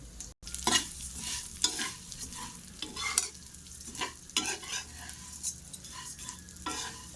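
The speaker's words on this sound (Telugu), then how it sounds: "అదే కడాయిలో సేమియా వేసుకుని వేయించుకుందామండి." Vermicelli (semiya) fries in a kadai over a medium flame for semiya kesari. A close, steady sizzle runs throughout, broken by repeated scraping strokes of the stirring spoon against the pan.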